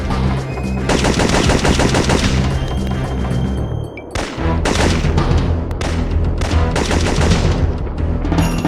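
Dense automatic gunfire from the PS1 shooter Syphon Filter 2 runs loud and almost continuously, with rapid machine-gun bursts, thuds and a brief lull near the middle before the shooting resumes.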